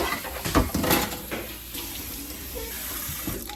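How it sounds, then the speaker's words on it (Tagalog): Tap water runs into a kitchen sink during washing up, splashing louder at first, then settling into a steady, faint stream. "So, ito, maghuhugas na ako ng mga kalat. Kasi, para malinis na yung lababo."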